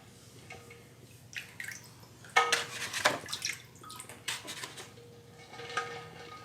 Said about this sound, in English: I'm just running my hands under to see if any are like floating